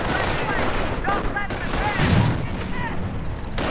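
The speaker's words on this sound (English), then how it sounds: "mortar rounds continuing to land amongst the remaining airborne" A video game battle crackles with gunfire and mortar rounds landing among airborne troops, with a dull thump midway, under loud, continuous talk.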